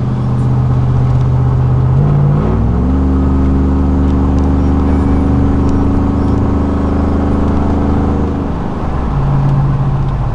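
A 2000 Chevrolet Silverado with the 4.8 engine accelerates hard from inside the cab, a loud steady engine drone rising through gear shifts with clear pitch steps, then settling as it cruises, no talking.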